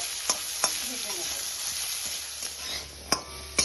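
Grated potatoes fry in a pan, a steady soft sizzle with several sharp clinks and scrapes of a spoon stirring at irregular intervals.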